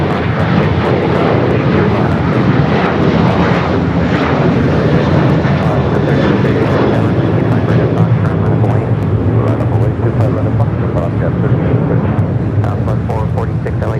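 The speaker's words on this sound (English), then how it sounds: "That is Star Alliance United 737-800, looking like it's heading up to the north side." A United Boeing 737-800 jet at LAX makes a loud, sustained engine roar, with a voice speaking over it throughout.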